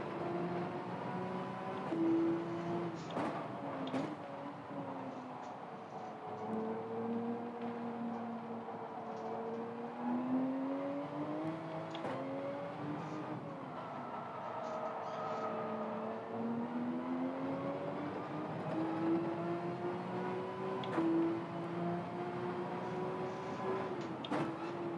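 A Porsche race car in Gran Turismo 7 drones with a sustained engine note that rises and falls through gear changes, moderately loud and alone.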